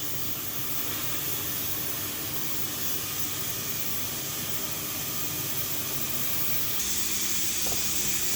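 A pressure cooker full of daal hisses out steam in a loud, steady rush close by, and the sound grows sharper and stronger near the end.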